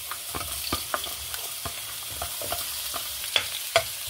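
Garlic and onion sautéing in a little oil in a pan make a continuous soft sizzle, punctuated by regular clicks and scrapes of stirring at a steady pace, with a couple of sharper knocks near the end.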